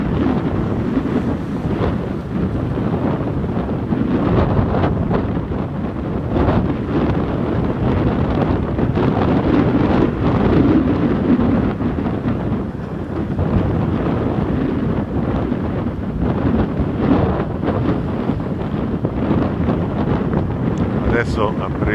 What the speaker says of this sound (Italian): sta rientrando una barca e il vento è talmente forte che la muove tutta